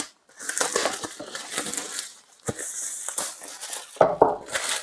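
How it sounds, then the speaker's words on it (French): A dashcam package being unboxed, with cardboard and plastic crinkling and crunching in close, uneven bursts. Two sharp snaps near the end sound like the box popping open. No one speaks. "On va déballer tout ça."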